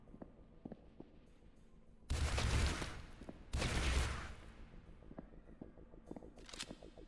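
Gunfire in a horror video game, two loud broadband blasts about a second and a half apart, each with a short decaying tail, over quiet ambience and faint footsteps.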